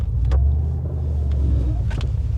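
Deep, throaty engine and exhaust rumble from a car with holes in its exhaust, a loud low drone close by with brief rises in the exhaust note.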